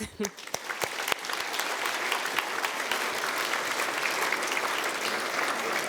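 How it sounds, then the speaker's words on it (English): A gala audience at a hall of fame dinner breaks into a round of applause, a few sharp early claps swelling into a sustained, even wash of many hands, fairly near and steady. "Round of applause"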